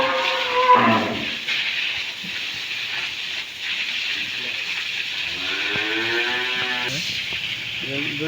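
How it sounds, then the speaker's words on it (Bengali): Cattle low and moo on a dairy farm among Holstein Friesian cows and calves, a drawn-out harmonic call rising in the second half over steady hissing background noise, with a shorter bellow near the start and a voice speaking nearby. "এই দুইটা গাভী এক্ষুনি নিয়ে আসা হইল"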